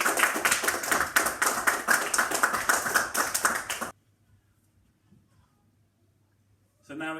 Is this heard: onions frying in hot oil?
no